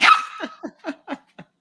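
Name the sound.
small dog barking in a video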